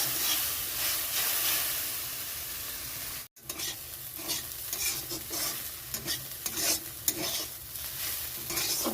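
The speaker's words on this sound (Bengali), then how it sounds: "কালো জিরে, শুকনো লঙ্কা, নুন, হলুদ ব্যাস দিয়ে ভেজে নিন।" Taro flowers frying in oil with black cumin, dry chilli, salt and turmeric, a steady close sizzle broken by a brief gap and by repeated scraping stirs in the pan.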